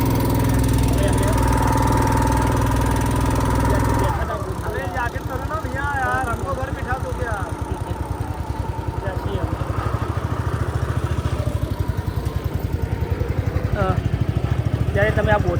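A motorboat ferry engine on the Narmada river near Omkareshwar chugs in a steady, close, rhythmic throb, while people talk loudly over it.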